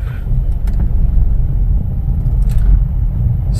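A Renault Kiger non-turbo car in sports mode rolls in first gear with no accelerator input, giving a loud, steady engine rumble with road noise throughout and a couple of brief higher clicks.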